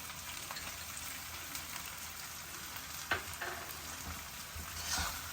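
Green peas frying in a pan for broccoli poha, a soft continuous sizzle close by, with a couple of brief stirring scrapes and clinks partway through.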